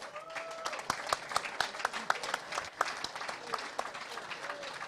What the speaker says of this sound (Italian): Farei un grosso applauso ad Alvise Tomaseo Pozzetta.